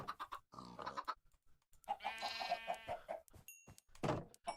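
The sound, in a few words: chicken clucking in a Minecraft modpack video game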